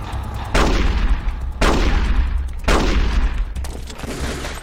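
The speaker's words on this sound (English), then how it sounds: "I'm just going to use my regular gun. It fires a lot." Three long bursts of rapid gunfire from a standard handgun in Metal Gear Solid: The Twin Snakes, each loud stretch running about a second with short gaps between them and no voices.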